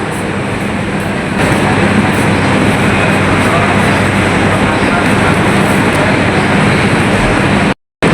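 Ride inside a new economy carriage of the KA Cikuray train in Indonesia, a loud constant rumble of wheels and carriage noise filling the whole stretch, with a brief dropout near the end and faint voices mixed in.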